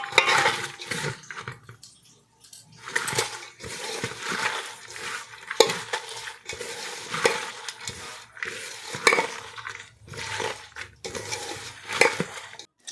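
Eggplant pieces fry in hot oil with a steady sizzle, broken by repeated scraping stirs of a spatula against the pan.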